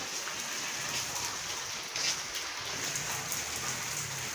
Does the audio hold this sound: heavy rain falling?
yes